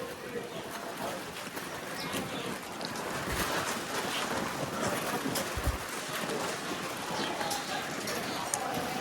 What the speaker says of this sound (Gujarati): એટલી જોરદાર હવા આવે છે ને